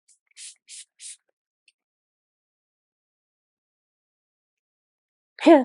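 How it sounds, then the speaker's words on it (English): Three short, quick hisses of a spray bottle in a row, then quiet, and a brief voiced sound near the end. "I'm going to be using Amanda Ellis's Galactic Federation Platinum Ray Commander Ashtar spray."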